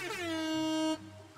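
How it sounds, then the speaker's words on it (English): A single loud air horn blast, a steady, brassy tone held for about a second before it cuts off abruptly. "let me, air horn it out"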